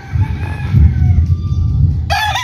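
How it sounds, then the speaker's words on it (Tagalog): Chickens cluck and chatter close by on a backyard farm, a busy low flock murmur, and a rooster breaks in near the end with a loud, ringing crow. "titingnan ko yung mga manok namin dito"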